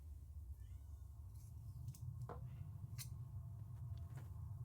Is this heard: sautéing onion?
no